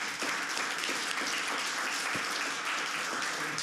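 An audience applauds after a conference session, with steady, even clapping filling the room throughout at a constant level.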